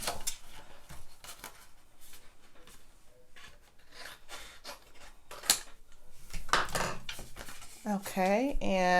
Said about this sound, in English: I'm just going to cut this paper down.